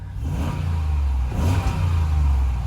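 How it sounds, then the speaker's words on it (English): A 2022 Jeep Grand Wagoneer Series III's big engine revs up with a deep, throaty rumble, swelling and easing in waves, close and loud with no talking. "Talk about a big engine. That is insane. I mean, you can just hear it."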